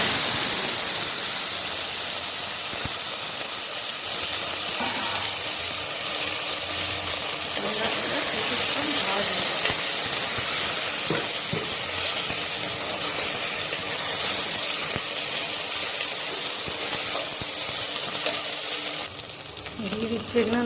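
Cumin seeds sizzle and crackle in hot oil, with kanda then added to the pan; a steady, close frying hiss runs throughout, with a brief shift near the end.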